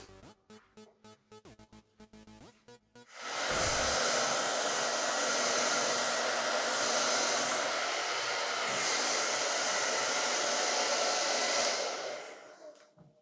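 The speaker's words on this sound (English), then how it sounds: "All right, I gotta go dry my hair." Hair dryer drying hair, switching on after a few seconds of small clicks and handling, then roaring steadily and loudly up close for about nine seconds before cutting off.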